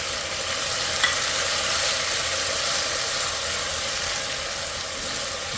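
Pimentos, habaneros, carrots, celery, tomatoes and onions go into a hot pot, producing a close, steady sizzle and frying hiss with a faint stir, continuous and without speech.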